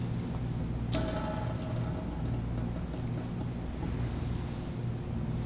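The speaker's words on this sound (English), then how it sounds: "I'm going to see if I can pour off some of that hooch" Liquid hooch poured off a homemade sourdough starter, a steady close trickle and splash like a running tap that starts with a sharp clatter, continuous and fairly loud for about five seconds.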